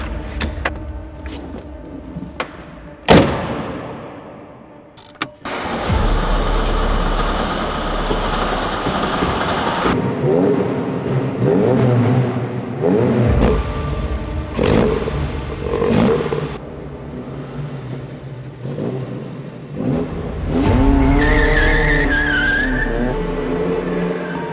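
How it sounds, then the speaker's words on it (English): A 1973 Alfa Romeo 2-liter GTV Bertone drives in a series of edited segments: engine revs rise and fall, with sharp whooshing passes and brief quiet gaps between louder stretches. "I drive a 1973 Alfa Romeo 2-liter"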